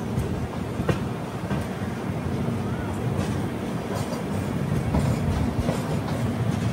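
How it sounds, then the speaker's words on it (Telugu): A Hamsafar Express rolls out of Chennai Beach station alongside a departing local train, wheels clacking in a steady rhythm over a broad rumble, fairly close, with faint voices in the background. "అటు సైడ్ ఇంకో లోకల్ ట్రైన్ ప్యారలల్ గా బయలుదేరాయి."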